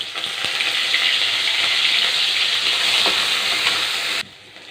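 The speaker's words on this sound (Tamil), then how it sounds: "கடுகு நல்லா பொரியுது." Mustard seeds spluttering in hot oil with ginger and garlic make a loud, steady hissing sizzle with occasional pops, close by, before dropping suddenly to a quieter hiss near the end.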